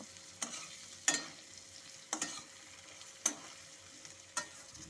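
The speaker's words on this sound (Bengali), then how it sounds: "দিচ্ছি কাশ্মীরি লঙ্কার গুঁড়ো গুঁড়ো মশলা দিয়ে এখন একটু সব কিছুর সাথে ভালো করে নেড়ে নেব" Jackfruit seeds frying with Kashmiri chili powder and spices: a low steady sizzle punctuated by five evenly spaced spatula scrapes against the pan, quiet and close, no voices.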